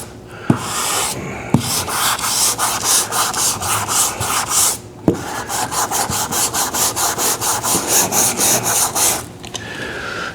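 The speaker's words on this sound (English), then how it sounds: "Now we can block down to this and sharpen up that body line." A sanding block is pushed back and forth over primer along a car body line, producing loud rhythmic rasping strokes in steady quick succession with a few short pauses, close and alone.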